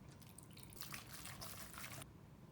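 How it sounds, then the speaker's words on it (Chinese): Soy sauce is poured into pork and cabbage dumpling filling in a short, quiet trickling stream lasting just over a second, then stops, leaving faint room tone. "倒入30克的生抽酱油"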